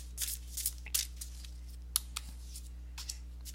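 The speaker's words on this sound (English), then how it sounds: "let me shuffle the oracle cards to see what oracle message you would get" Oracle cards are shuffled in short, quiet bursts of papery riffling and flicking, with low hum and small pauses between the shuffles.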